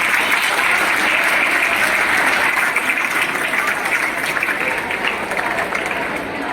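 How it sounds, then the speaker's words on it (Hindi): At a school ceremony in Hasanpur, Rajgir, honouring students for an international talent search exam, a gathered audience gives loud, continuous applause that holds steady throughout and tapers only slightly at the end. "एक बार जोरदार तालियां बजाइए सभी लोग।"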